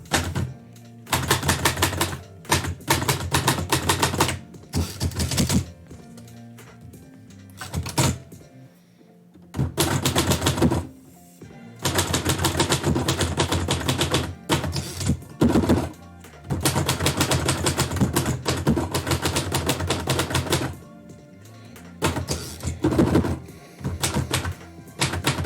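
A typewriter types poetry at a live session, its keys clattering in rapid bursts separated by brief pauses, loud and close.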